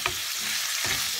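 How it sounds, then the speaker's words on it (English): Pork belly slices sauté in a pan with an even, close sizzle and two soft scrapes from stirring. "What we're gonna do is just keep on sauteing this until our pork's cooked"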